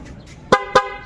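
A car horn made of two horns wired through a single relay gives two short, loud honks in quick succession, close by, with faint background noise around them.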